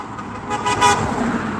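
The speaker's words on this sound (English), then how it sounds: "lots of beeps coming from cars" A car horn toots briefly amid street traffic noise in Whittlesey, near Peterborough, a short beep or two standing out over the background hum.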